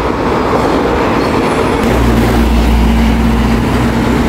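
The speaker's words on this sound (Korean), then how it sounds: "지하철이다." A subway train rolls over a bridge near Gupo in Busan, a loud, close, continuous rumble that swells midway with a thin metallic squeal riding on top.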